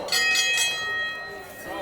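A bell rings at the start of an extreme wrestling show in Atlanta, its sustained metallic tone holding steady under crowd noise and a commentator talking over it.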